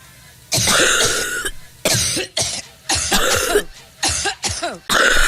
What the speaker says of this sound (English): You're coughing something up here.